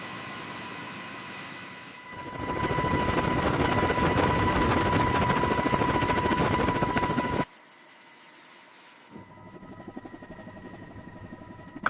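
A CH-53K heavy-lift helicopter's main rotor spins up, giving a loud, steady mechanical roar with a strong turbine whine that holds for several seconds. It then drops abruptly to a quieter hum and rises slightly again.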